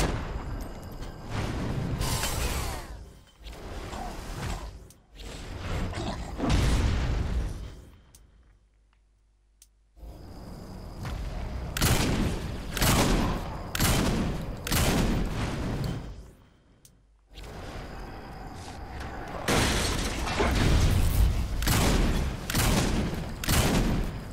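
Shotgun blasts and reload clatter from Saints Row 4 come in repeated loud bursts, with brief quiet gaps between volleys.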